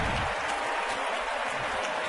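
Crowd at a Minnesota Twins postseason baseball game roaring with cheering and applause after a single, a dense, continuous wash of distant noise.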